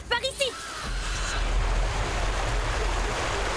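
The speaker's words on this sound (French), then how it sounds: "Je n'avais jamais vu cette rivière auparavant." A river rushes steadily in a French prehistoric cartoon, a broad, continuous watery wash after a short burst of excited cartoon voices at the start.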